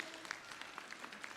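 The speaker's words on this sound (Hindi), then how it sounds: "एक बार जोरदार तालियों से" Applause from a crowd at a gate-naming ceremony in India comes through as a faint, brief patter of scattered claps heard from a distance.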